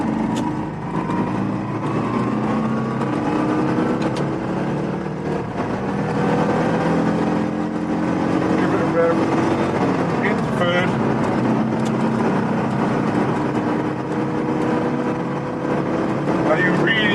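A Citroen 2CV pulls away in first and shifts into second, its small engine droning and rising in pitch, dipping briefly at the gear change, then climbing again, close and steady throughout.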